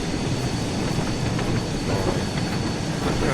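A steam train runs along the rails on the West Somerset Railway in Train Sim World 4, a loud steady rumble with rhythmic wheel clatter and rail noise, continuous and close as if from the cab, no voices.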